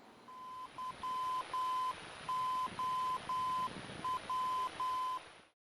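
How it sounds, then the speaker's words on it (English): A VOR navigation beacon's Morse code identifier sounds as a steady, faint tone keyed into short and long beeps, with dot-dash groups repeating over a hissy radio background. "A typical VOR identifier might sound something like this."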